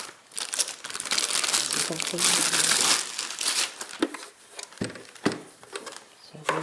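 A paper instruction sheet for a Simplicity bias tape maker crinkles and rustles up close, loud and continuous for a few seconds, then gives way to a few sharp handling crackles, with a brief spoken word.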